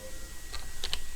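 Typing on a computer keyboard, a few quick key clicks close by, the last two in rapid succession, against a faint steady background hum.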